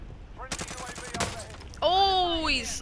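Sniper fire in Call of Duty: Modern Warfare multiplayer, a burst of sharp shots early on followed by a whining, descending tonal effect, with players' voices in the mix.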